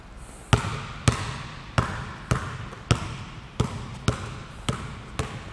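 A basketball dribbled left-handed in a beginner youth drill: about ten sharp, evenly spaced bounces roughly every half second, close and crisp, with no voices over them.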